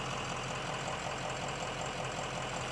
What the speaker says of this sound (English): It's idling nice and smooth.